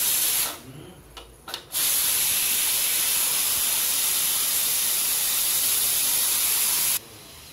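A pressure cooker of sambar releases a loud, steady hiss of steam for several seconds, starting abruptly after a brief quieter moment and cutting off sharply near the end.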